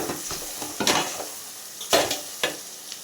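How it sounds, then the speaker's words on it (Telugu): Masala paste of ground coconut being stirred into stuffed brinjal curry in a pan, with a steady sizzle and several scraping stir strokes of a spoon against the pan, close and alone. "ఇప్పుడు మసాలా వేసి కలుపుతున్నాము."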